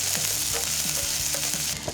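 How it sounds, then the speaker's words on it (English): Chilies, garlic, ginger and scallion fry in a hot pan with a loud, steady sizzle, broken by irregular scrapes and knocks of stirring. "I'm gonna add my chilies. Garlic, ginger, scallion. Let's get frying here."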